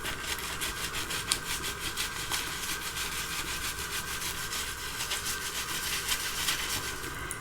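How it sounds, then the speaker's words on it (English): Close, quiet, rhythmic rubbing and scrubbing as a wig is lathered and worked with bright purple toning shampoo, the strokes repeating steadily in ASMR style with no speech. "If you close your eyes, it'll sound like I'm actually washing your hair."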